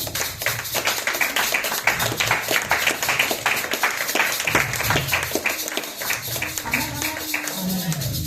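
A church congregation applauds during a worship service, with a dense burst of clapping that keeps a rapid, uneven rhythm and has raised voices mixed in.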